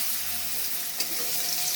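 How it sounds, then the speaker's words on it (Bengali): Potatoes sizzle in hot oil seasoned with Bengali five-spice (panch phoron), a steady loud hiss of frying throughout with no talking. "5 ফোড়ন হয়ে গেছে, তো আমি আলুগুলো ছেড়ে দিলাম।"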